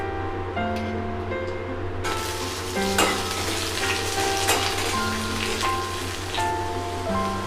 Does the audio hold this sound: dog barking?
no